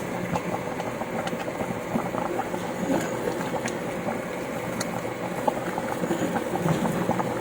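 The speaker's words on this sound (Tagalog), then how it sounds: "Yan, kumukulo na." Chicken tinola soup with chayote boils in a pot, a low, continuous bubbling rumble with scattered pops, fairly faint and steady, with no talk.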